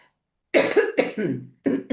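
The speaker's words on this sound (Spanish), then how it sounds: "que todavía no me recupero la tos" A rapid burst of several harsh coughs, close and loud, one after another with brief gaps between them.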